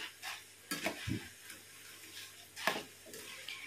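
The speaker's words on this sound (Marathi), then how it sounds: "मका पोहे तळून घ्या।" Corn poha flakes finish frying in oil for a Schezwan chivda, with soft intermittent sizzling, a few sharp clinks and scrapes of a utensil against the pan, fairly quiet and without speech.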